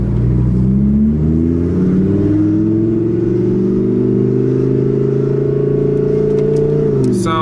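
A 1700 HP Audi R8 accelerates on the street, its engine note climbing steadily through a loud, sustained rising whine and roar from close by before easing off.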